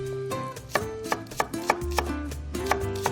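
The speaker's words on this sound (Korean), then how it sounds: "묵국에 들어가는 파를 썰 건데" Knife slicing green onions on a cutting board for Korean beef and radish soup, a steady series of crisp chopping taps about every quarter second, heard alone over a faint background tone.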